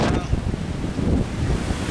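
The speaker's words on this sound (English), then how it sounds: "we're being pummeled by high wind now" High storm wind buffets the microphone in a steady, loud roar with rushing gusts; a voice is faintly present.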